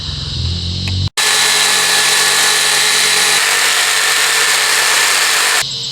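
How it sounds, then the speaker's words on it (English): An electric jigsaw cuts a section out of material for homemade Halloween decorations, running as a loud continuous whine up close after a brief earlier sound and a short gap, then stopping near the end. "I'm going to take my jigsaw and I'm going to cut that section out"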